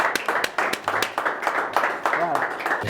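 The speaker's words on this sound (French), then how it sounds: "M. Noli Tambou, qui va faire son entrée sous vos applaudissements, s'il vous plaît." An indoor audience claps for the entrance of the youth league president of ACP France at a ceremony, irregular close handclaps running throughout with a voice talking over them.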